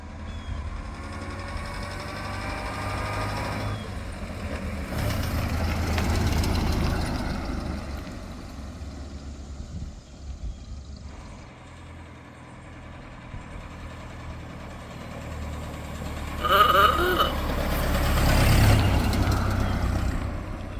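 A 1930 Ford Model A engine running steadily as it tows a camper trailer, a low continuous rumble with swells and dips in loudness and a louder passage near the end.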